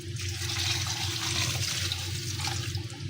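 Water pours steadily into a pot of beef curry with ginger-garlic paste and spices, a continuous close splashing rush with no talk.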